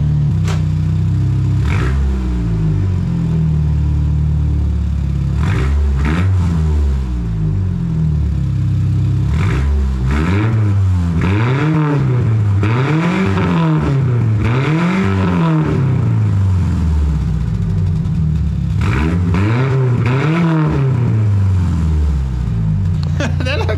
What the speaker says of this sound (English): Let's let it warm up a minute and give it a couple revs